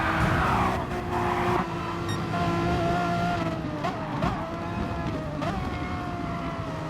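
Two race cars run side by side through a sweeping right-hander in a racing video game, engines droning with rising and falling pitch as they shift, loud and continuous with brief tonal sweeps.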